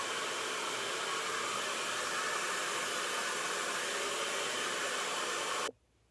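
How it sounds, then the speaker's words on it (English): Hair dryer blowing on type 4 natural hair, a loud steady rush of air running unbroken before cutting off abruptly near the end. "So always blow dry in a downward position."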